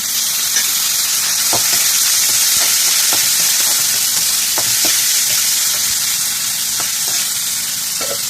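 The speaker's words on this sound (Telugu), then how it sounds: "చూసారా టమాటా వేగిపోయింది బాగా" Tomatoes frying in a pan for chicken leg fry, a loud continuous sizzle and hiss close by, broken by regular spatula scrapes and taps, with no one speaking.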